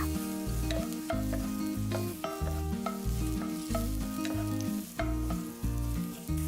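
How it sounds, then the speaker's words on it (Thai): Shiitake mushrooms stir-fry in a tablespoon of oil in a hot wok over medium heat, a continuous close sizzle punctuated by repeated rhythmic scraping strokes of the spatula, with no talking. "ใส่เห็ดหอมที่เตรียมไว้ค่ะ ผัดจนหอมแล้วก็สุกดีเลยค่ะ"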